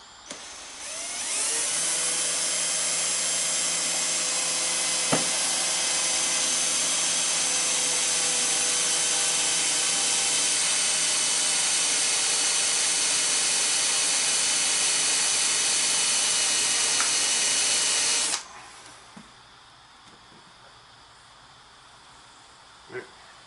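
A drill bores a hole through a kayak for steering hardware, a loud, sustained high whine for about seventeen seconds before stopping abruptly, followed by faint handling noise.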